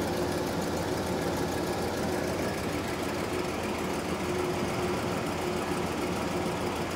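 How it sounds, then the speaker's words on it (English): A GMC motorhome's air conditioning compressor runs with a steady, continuous mechanical hum and whir, even and unbroken throughout, with no talk over it. "The compressor is running."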